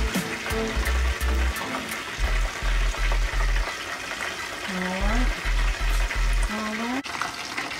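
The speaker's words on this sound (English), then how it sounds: "You gonna fry it right here in the grease of cornbread?" Meat sizzles in leftover cornbread grease in a pan for a leftover shepherd's pie, with frying crackle running under a voice and other intermittent sounds across the clip.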